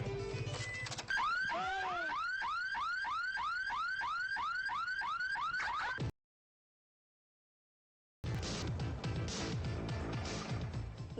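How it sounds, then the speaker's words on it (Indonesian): A Roncar car alarm goes off on a parked car, sounding loud rapid repeating electronic chirps in a steady rhythmic sweep, then cutting out abruptly before other sound resumes. "Dari kemarin mobilnya Mama pasangi alarm canggih, merek Roncar."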